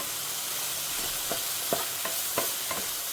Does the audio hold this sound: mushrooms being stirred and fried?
yes